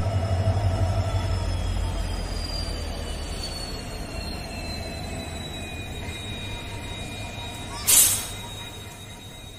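Kolkata–Radhikapur Express pulling into a station, a steady low rumble of the train with long drawn wheel squeal tones across the whole stretch and a brief sharp hiss burst near the end.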